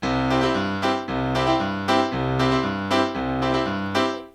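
A piano pounds out a driving, upbeat country rhythm, steady repeating chords over a bouncing bass line, loud and close with no voices.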